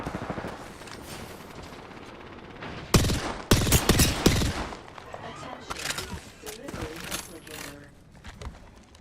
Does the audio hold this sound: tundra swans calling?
no